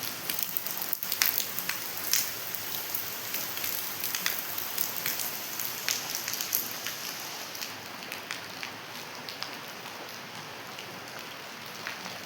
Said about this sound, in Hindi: तो इतनी ज़ोर की बारिश हुई है, रात से लगी हुई है।